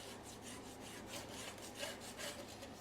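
Aluminum foil dipped in Coca-Cola scrubs rust off chrome, a faint, steady rhythmic scraping of repeated back-and-forth strokes.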